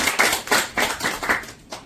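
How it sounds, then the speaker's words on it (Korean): A congregation at a church New Year's worship service claps in a quick, regular rhythm, with about seven distinct bursts of clapping in under two seconds, moderately close. "하나님께 영광의 박수 올려드리겠습니다."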